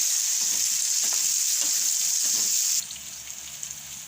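Tender drumsticks and potatoes frying in oil for a Gujarati shaak, a loud bright hiss of sizzling that drops suddenly to a quieter crackle partway through, with soft stirring knocks underneath.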